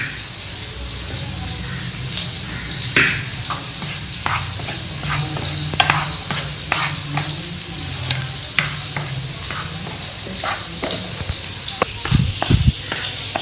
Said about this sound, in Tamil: இந்த மாதிரி நல்லா பிரட்டிடலாம்